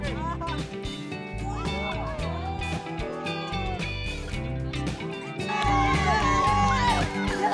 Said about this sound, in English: The ice is broken, and now they are busy cheering for their team.